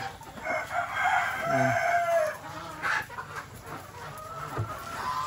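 Several chickens cluck and a rooster crows on a farm with eggs being collected, a busy, close flock chatter with overlapping calls and one clear crow rising above the clucking.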